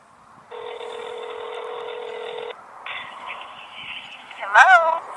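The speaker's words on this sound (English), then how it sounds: "This is an iPhone on Verizon. I can hear it ringing." A phone ringback tone sounds in steady pulses through an iPhone handset on Verizon, followed by a brief voice at the end.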